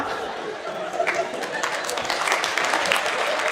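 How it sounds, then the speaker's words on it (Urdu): Scattered clapping from a student audience at a university session breaks out in bursts over a murmur of chatter and light laughter, with someone speaking across it. "اس پہ تالیاں کیوں بجا رہے ہیں آپ آج؟"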